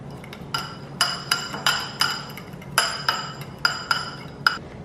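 A utensil stirs butter, lemon juice and minced garlic in a bowl, producing a series of sharp, bright clinks against the side at an irregular rhythm, close and clear with no talk.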